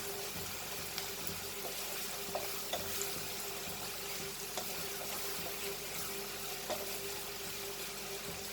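Onions fry in a pan for Goan prawn balchao with a continuous, even sizzle and faint crackle, moderately loud and close, with a few soft stirring clicks and no voices.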